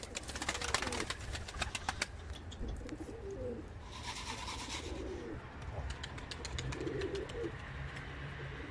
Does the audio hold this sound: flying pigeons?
yes